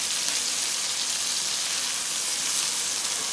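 Onions and green onions sizzle steadily in a pan, a dense, even hiss with no pauses or voices, close and continuous throughout.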